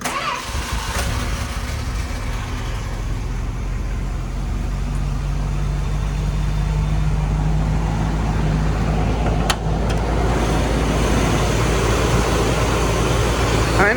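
Just after start-up, a 1980 Chrysler Newport's 318 V8 with 15,000 miles runs at a steady close idle, a continuous low hum with a faint brief click partway through.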